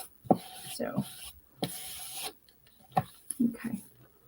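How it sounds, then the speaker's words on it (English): A sanding block scrapes straight up and down along the edges of a small wooden flower hanger post in a few short, rough strokes with pauses between them, close and fairly quiet. "I'm going to take my sanding block, and I'm just going to go straight up and down."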